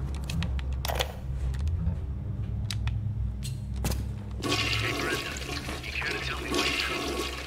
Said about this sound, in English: I'm not trying to flush the toilet.